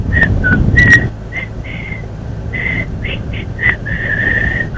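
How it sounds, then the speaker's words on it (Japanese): Someone whistles a song melody as a quiz answer, short bright phrases with pauses between them, close and clear, after a brief burst of rustling at the start. "多分曲聴いてからの口笛だとわかるよ。"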